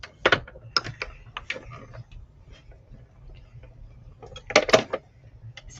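Card and die run through a die-cutting machine: clustered clicks and ratcheting crank bursts near the start, a quiet pause, then another loud burst of clacks toward the end.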